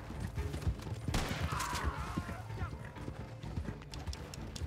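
Gunfire in Red Dead Online during a horseback fight: rapid shots crackle over galloping hooves and a horse's whinny, with voices talking through the skirmish.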